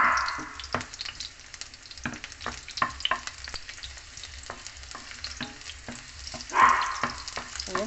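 Garlic sautéing in a pan, a soft continuous sizzle broken by repeated clicks and scrapes of stirring, with a brief louder hiss near the end; no talking.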